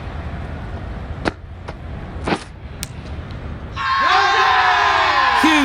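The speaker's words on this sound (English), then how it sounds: "the crowd have joined the party. It's pretty noisy in the ground." Stadium crowd cheering in the cricket video game Cricket 22 during a tight T10 match, swelling suddenly into loud sustained roaring and whooping after a quieter stretch with a few sharp hits.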